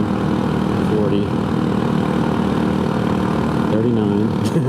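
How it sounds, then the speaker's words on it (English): Scooter engine held at wide-open throttle in fourth gear, a loud, steady droning buzz with a constant pitch under heavy wind rush. A voice talks over it briefly. "How long do we punish it in fourth gear with the throttle wide open?"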